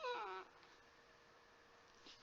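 A needy house dog lets out a brief, high, wavering whine at the very start, then the room falls to a quiet hush.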